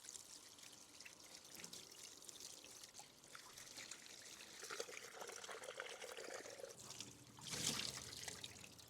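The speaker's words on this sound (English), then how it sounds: "I'm going to wash it with some water, get all the blood off" Tap water trickling and splashing over a prepared Christmas turkey as it is rinsed of blood, a soft steady stream close by with a brief louder gush near the end.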